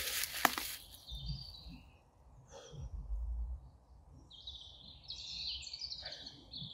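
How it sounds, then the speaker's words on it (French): Birds singing outdoors in short, scattered high chirps and trills, faint and intermittent over a soft rustling background with some breathing noises. "on en profite avec le chant des oiseaux"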